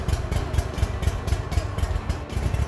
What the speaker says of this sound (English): So I'm gonna crank the mower up real quick and I'm gonna show you what I do.